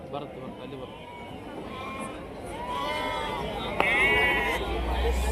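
Goat kids bleating at a livestock market in Sindhanur, several overlapping bleats above a busy crowd murmur, with people talking nearby.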